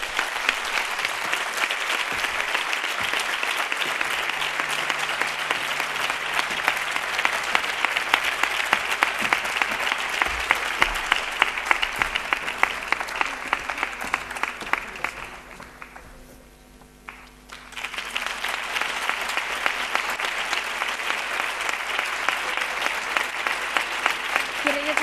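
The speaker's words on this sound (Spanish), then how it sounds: "lo hagas impulsado por este caluroso aplauso que te rinde la sala" Warm, sustained applause fills an education gala hall for about fifteen seconds, dense and even, then briefly thins to a near lull before the clapping swells back up at full strength.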